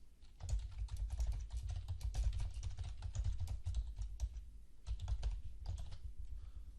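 Steady, rapid keystrokes on a computer keyboard, close and continuous for several seconds with brief pauses, no voices.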